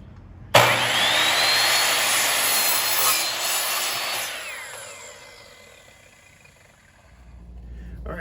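A saw cuts through a wooden dowel in one long rasping stroke that starts abruptly, holds strong, then fades out near the end.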